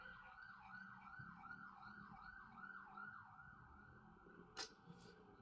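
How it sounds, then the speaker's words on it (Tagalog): An ambulance siren wails in a steady repeating up-and-down cycle, heard at moderate distance over low road noise, with one brief sharp knock near the end. "may ambulansya."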